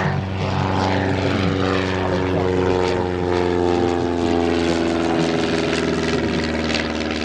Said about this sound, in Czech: I poslední válečná verze Auster MK5 s vybavením pro lety bez vnější viditelnosti.